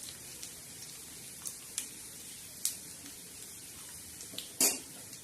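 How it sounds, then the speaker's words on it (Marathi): Shrimp roasting on a hot tava with a soft, steady sizzle, broken by sharp metal clinks and scrapes as a utensil stirs the pan. "आता हे झिंगे छान असे भाजून घेणार"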